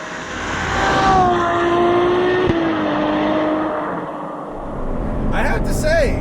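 The engine of a 789 hp Ferrari 812 Superfast booms loudly from inside the car, its pitch sliding down through the gears as it eases off. A sharp click and a brief rising note come near the end, and someone talks over the roar.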